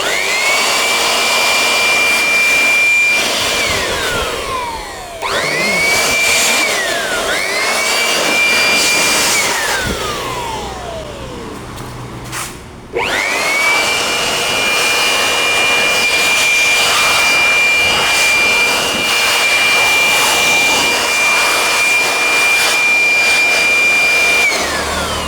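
A new electric air blower roars loudly while cleaning a decade-old PC, its steady high whine dropping and rising as it stops and restarts, with the computer fan spun up like a turbine.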